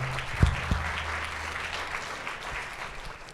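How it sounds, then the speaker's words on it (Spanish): Audience applause at an education forum with a presidential candidate, honoring the audio and video crew; steady, moderately loud clapping from a crowd, with a few sharp low thumps near the start. "hay que darle un aplauso a los de audio y video reconociendo que es bien complicado"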